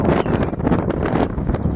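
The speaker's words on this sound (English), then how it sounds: "It's windy." Gusty wind along clifftops buffets the microphone in uneven bursts, a rough, rumbling whoosh close up with no other sounds standing out.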